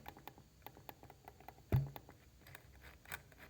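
Keys on a wireless keyboard tap in a quick, quiet, uneven rhythm close by, with one heavier thump partway through.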